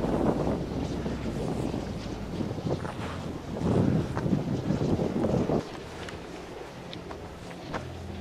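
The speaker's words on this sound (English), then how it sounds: "This is a very economically viable wind. Because it blows all the time." Strong wind blows across the open ground of a Norse mill and kiln site in the Hebrides, a loud, rumbling buffet on the microphone that drops suddenly to a calmer hiss near the end.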